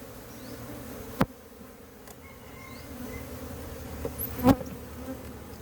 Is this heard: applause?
no